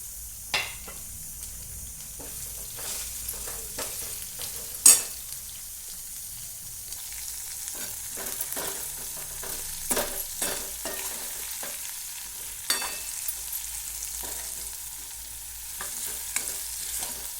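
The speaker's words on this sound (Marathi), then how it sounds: "आता हे कारले मी चांगले तेलात होऊ दिले" Bitter gourd pieces fry in hot oil for a home-style Marathi vegetable dish, a steady soft sizzle under intermittent scraping and clinking stirs of a spoon against the pan, close and moderate in level, with no talking.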